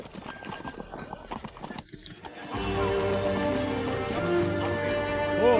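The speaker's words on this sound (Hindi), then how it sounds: "जल्दी दरवाजा खोलो, घोड़े वापस आ गए हैं।" Horses come back in at a trot, clip-clopping hooves close by with a whinny, first scattered steps and then a dense steady run of hooves and snorts, voices faintly around.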